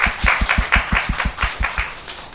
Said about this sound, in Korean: 다시 한번 주님 앞에 영광의 박수 올려드리겠습니다